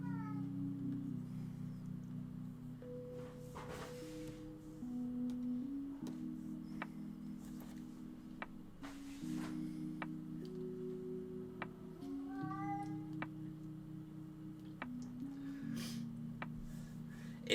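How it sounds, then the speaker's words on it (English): A single agitated cat meows and yowls repeatedly in drawn-out, wavering cries that rise and fall, fairly close and loud, carrying on for the whole stretch with brief gaps between calls and a steady soft background hum. "Apologies if you can hear that cat going."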